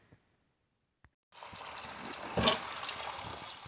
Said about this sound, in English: We'll go ahead and take this thing out of the brine, rinse it off, and get it ready for the smoker.